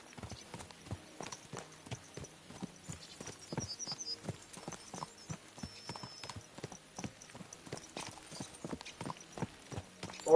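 Horse hooves clip-clopping in the medieval video game Kingdom Come: Deliverance II, a brisk steady rhythm of close, distinct hoof strikes with faint tack rattle beneath.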